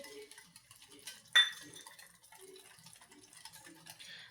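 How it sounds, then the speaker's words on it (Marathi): A cup of semolina is stirred into an eggless cake batter in a bowl, giving quiet scraping and soft clinks of the utensil, with one sharper clink near the middle. "आता ह्याच्यामध्ये जो आपण एक वाटी रवा घेतलेला आहे तो घालून घ्यायचा आहे मिक्स करून घ्यायचं"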